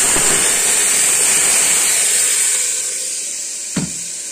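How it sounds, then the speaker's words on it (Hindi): A pressure cooker set on a home kitchen stove hisses in a strong, steady jet of steam that gradually softens, with a brief clink near the end and no talking. "तो मैंने कुकर बिठा दिया है, देख सकते हैं।"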